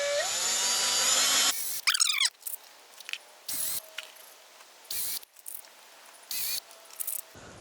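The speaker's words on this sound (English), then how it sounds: "just take your drill and you're just going to start putting the screws in." Cordless power drill driving screws into wood while building a corn-growing frame, one long whine up front followed by several short bursts of driving separated by quiet pauses.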